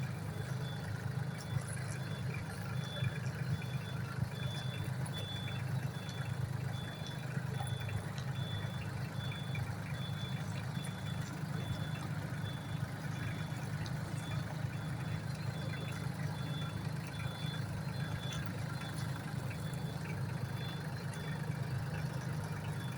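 A Solis 26 tractor engine runs in third gear in reverse, idling and churning steadily at low pitch, with a faint repeating high beep running throughout, nothing else standing out.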